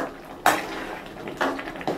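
A spoon stirring green peas and potato curry with curry leaves in a pan, heard as three sharp metallic scrapes and clinks spaced out over a quiet, steady background.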